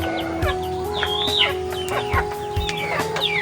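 A mother hen of a backyard flock with chicks and Rhode Island hens clucks repeatedly at close range, short rhythmic calls over a steady background hum and other chicken chatter.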